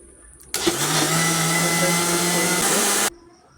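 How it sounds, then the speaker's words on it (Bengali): A kitchen blender grinds a paste of mint, spices and black salt for borhani, running loud and steady for about two and a half seconds before cutting off abruptly, with no talk over it. "সেটা দিয়ে দিচ্ছি এবার আমি ব্লেন্ডারে"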